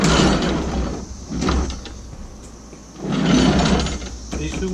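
A Husqvarna mower deck is pushed along on its small wheels under the mower, producing two rolling, scraping swells of rumble with a quieter pause between them, close by.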